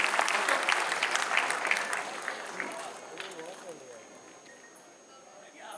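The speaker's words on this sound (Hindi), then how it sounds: "एक बार आदरणीय के लिए जोरदार तालियां उठाई जाए" A crowd at the Taj Mahotsav poetry gathering in Agra claps for poet Raj Bahadur. The applause starts loud and dense, then thins and fades over several seconds.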